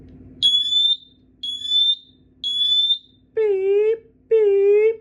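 A rare copper-colored smoke alarm sounds five loud, close electronic beeps in a steady rhythm, the first three high and shrill and the last two lower and buzzier, with no talking.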